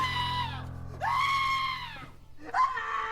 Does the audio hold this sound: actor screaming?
yes